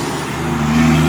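Cars driving by on a nearby road, a brief low rushing hum that swells slightly louder as a vehicle approaches.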